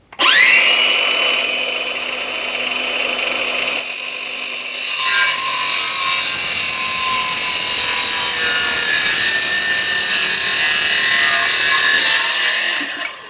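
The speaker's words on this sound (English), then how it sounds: "So our circular saw is going to run, the blade is going to run in this bit." A circular saw spins up loud and sustained as it cuts through beadboard, holding a steady high whine for several seconds and then winding down as it finishes, with no talk.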